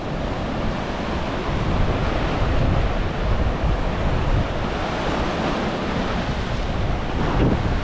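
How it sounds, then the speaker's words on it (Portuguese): Sea waves surge continuously on an Israeli shore while strong wind buffets the microphone with loud, steady rumbling roar throughout, no voices. "Eu não sei como tá o áudio aí, porque tá um vento forte do mar"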